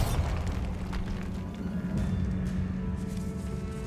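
The Bombarda spell in the video game Hogwarts Legacy sets off a heavy, rumbling explosion, a dense low boom with a steady roar that lingers for several seconds and slowly thins, with no speech over it.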